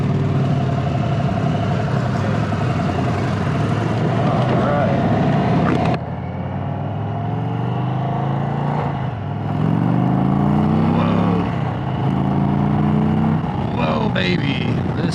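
An Indian Chieftain Darkhorse 116 touring motorcycle on the road, its engine droning loud and close with wind rush and a rising rev partway through, while a rider talks over it.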